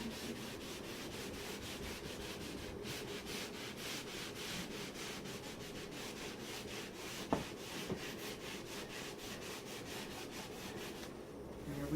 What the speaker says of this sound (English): I'm going to grab a rag and just rub some of that back